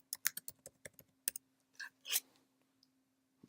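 Quiet, irregular clicks of keys being typed on a keyboard, a quick burst of taps followed by a few scattered presses over a low steady hum.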